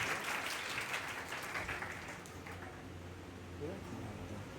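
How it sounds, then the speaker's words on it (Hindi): Audience at a Bihar police constable selection award ceremony applauds steadily for a few seconds, a dense, moderately distant wash of clapping under faint background voices. "जोरदार तालियों से स्वागत करें"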